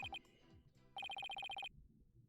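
A mobile phone rings with a fast electronic trill, a brief burst followed by a longer run of rapid, evenly pulsed tones, fairly loud and clear over quiet background game music.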